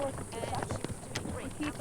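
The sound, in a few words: horses' hooves clip-clopping while climbing a mountain trail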